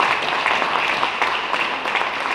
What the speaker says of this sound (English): let's give you a great round of applause